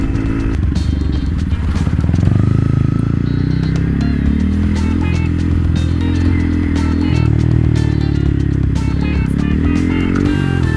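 A manual motorcycle engine drones loud and steady while overtaking on an open road, with continuous rumble, wind buffeting and rattle throughout, and a voice talking over it.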